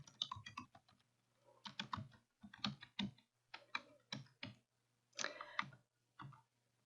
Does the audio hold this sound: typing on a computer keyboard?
yes